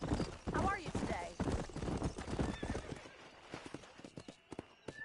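Galloping horse hooves in the video game Red Dead Redemption, a fast, close, steady clip-clop with a whinny near the start and a voice shouting over the opening, thinning out toward the end.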